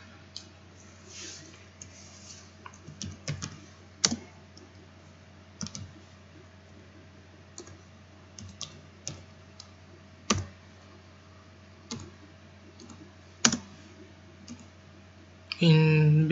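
Sparse keyboard clicks while a formula is typed into the STAAD Pro editor, isolated taps spaced out over a low steady hum, with a brief louder noise at the very end.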